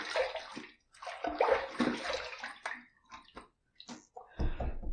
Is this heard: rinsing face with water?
yes